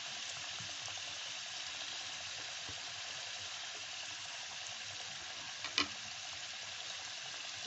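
Labanga latika sweets fry lightly in hot oil, giving a steady, even sizzle throughout with a couple of brief clinks of a utensil near the end.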